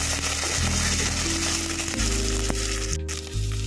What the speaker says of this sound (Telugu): ఆనియన్స్ దోరగా వేగాక పచ్చిమిర్చి, అల్లం చిన్నిపాయ పేస్ట్, ఇది కూడా కొద్దిగా దోరగా వేగనిస్తాము.